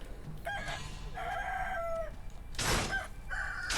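A chicken in the video game Sekiro: Shadows Die Twice clucks in short, strained bursts and then lets out a brief crow, set against quiet ambient game sound.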